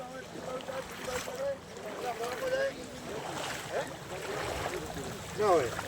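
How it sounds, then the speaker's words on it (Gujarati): Floodwater rushes strongly with a constant roar and wind buffeting the microphone, while faint voices come and go underneath. "આગળ તો બહુ ખતરનાક પાણી હેડે છે"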